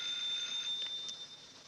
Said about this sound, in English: Haven't I told you not to answer the phone at night?